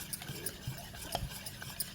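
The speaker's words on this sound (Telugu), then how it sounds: "క్రీమీగా వచ్చే వరకు బాగా కలుపుకోవాలండి." Sugar being beaten into a creamy chocolate cake batter, a soft close stirring and scraping with light rhythmic taps against the bowl, quiet and without talk.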